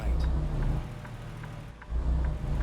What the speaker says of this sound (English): Engine brake and the downshift's working great.